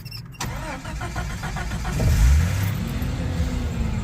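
A manual transmission car started with a key: a brief cranking chatter, then the engine catches with a rising rev and settles into a steady, close idle.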